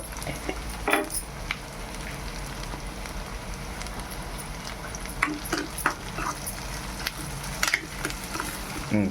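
Onions, ginger-garlic paste and turmeric fry in a pan for egg curry, giving a steady low sizzle with occasional scrapes and clinks of a spoon stirring, close and fairly quiet, no talking.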